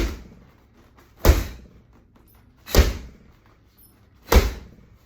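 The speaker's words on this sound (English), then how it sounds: "grab med ball, and then you're gonna slam and exhale at the same time" A medicine ball is slammed down during a workout three times, about a second and a half apart. Each slam is a sharp, heavy impact that dies away quickly.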